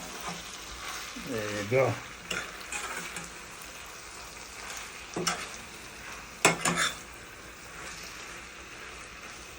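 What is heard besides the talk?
stirring cod fish and okra frying in a pan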